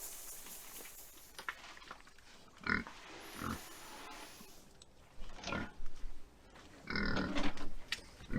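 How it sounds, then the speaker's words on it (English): Pigs at a fence on an off-grid homestead, giving scattered short grunts and snuffles along with thumps and rustling against the fence, fairly close and irregular against quiet outdoor background. "Let me get these pigs in here because they're ready to eat."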